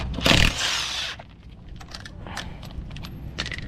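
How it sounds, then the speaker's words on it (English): An impact wrench loosening 21mm lug nuts on a Toyota 4Runner front wheel: one short, loud rattling burst, followed by light metallic clinks and small handling noises nearby. "grab your 21mm and impact your breaker bar. Take these 6 lug nuts out."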